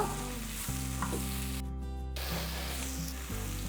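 Loud, steady sizzling of masala spices frying in a hot pan for brinjal curry, with faint scraping stirs and a brief pause partway through.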